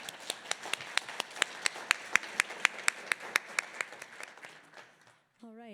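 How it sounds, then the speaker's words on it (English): An audience claps for a panel of speakers at an education event, a steady run of distinct hand claps lasting about five seconds before it fades out. A brief tone sounds at the very end. "Maybe let's give them a round of applause."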